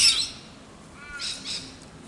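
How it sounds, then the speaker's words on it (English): A kookaburra calling at a Perth cemetery, a couple of short harsh squawking bursts at the start and again a second later, moderately close with no talk. "So this is a kookaburra, everybody."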